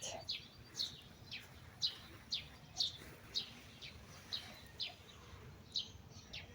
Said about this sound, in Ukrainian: Так гарно співають пташки, що не хочеться їх